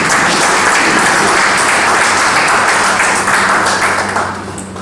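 Loud, dense applause from the audience at a book launch and honours ceremony on Sujok acupressure, many hands clapping in a sustained wash that fades slightly at the end, with no voices over it.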